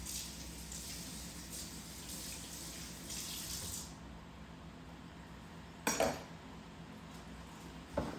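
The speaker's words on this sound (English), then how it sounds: "Give it a nice little rinse." Tap water running steadily over a cutting board being rinsed in a kitchen sink, a soft continuous splashing hiss that shuts off midway, followed by a couple of light clatters.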